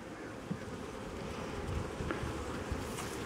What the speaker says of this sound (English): Oh, a nice little patch of bees.